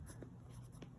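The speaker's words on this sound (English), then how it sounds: "I want to use this to write his name on the back in pencil" A pencil scratches a name onto the back of a paper cutout, a short, soft, close scribbling with light strokes.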